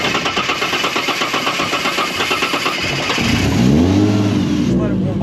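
A cold, barely running car engine idles roughly before being revved, the pitch rising in a sharp swell and then dropping back.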